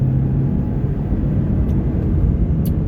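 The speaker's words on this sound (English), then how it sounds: "Here is full throttle in eco mode." A 2024 Ford Escape ST Line accelerating at full throttle in eco mode, a steady low engine and road rumble heard from inside the cabin, constant and fairly loud with no clear rise.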